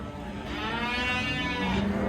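A cow or heifer at the Karakol livestock market lets out one long, loud, close moo that rises and holds for the whole stretch over a busy market background.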